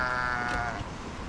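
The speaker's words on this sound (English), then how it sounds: "as you can hear, the sheep are still severely unhappy." Sheep bleat loudly and continuously close by, a flock calling in unhappy, overlapping cries on a farm.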